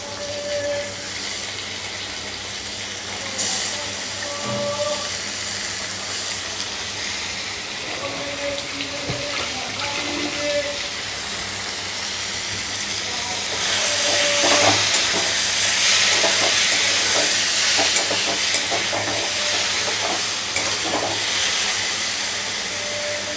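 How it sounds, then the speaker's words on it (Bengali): Loitta (Bombay duck) fish dropped into hot spiced oil, frying with a steady close hiss and crackle that swells louder partway through, with occasional clinks of a utensil. "এবার আমি লইট্টা মাছগুলো দিয়ে দেবো।"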